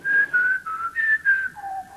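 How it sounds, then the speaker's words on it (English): A man whistles a short tune in clear, sustained notes of shifting pitch, alone with no talk, the phrases separated by brief breaths. "As he whistles some moronic tune."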